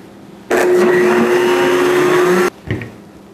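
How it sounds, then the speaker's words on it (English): A blender whirs loudly for about two seconds as it blends raw vegan eggnog with vanilla extract and salt, then stops abruptly, followed by a brief clunk. "Then we're gonna blend it up again."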